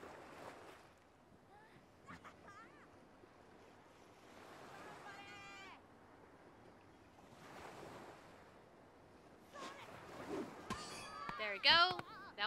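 Ocean surf washes in soft surges in the video game Yakuza 3, with wind noise and a voice talking over it.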